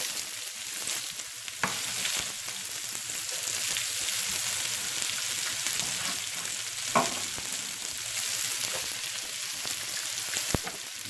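Onions sizzle and fry steadily in hot oil with mustard-type seeds crackling, a constant bright hiss broken by a few sharp pops and stirring scrapes, close by and free of talk.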